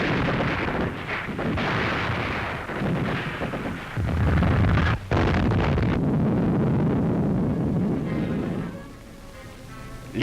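Artillery guns fire during the 1943 Allied advance in Italy, a sustained rumble of booming blasts with gusting wind across the field, the barrage continuing loud before easing near the end.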